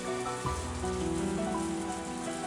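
Steady rain from the Higurashi When They Cry visual novel pours in a continuous hiss of drops on surfaces, with a soft sustained musical drone layered underneath, even and unbroken throughout.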